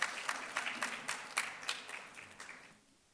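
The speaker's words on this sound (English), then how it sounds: "let's have another round of applause for our graduating class" Audience applause for a graduating occupational therapy class, a ragged run of separate claps that thins out and fades away toward the end.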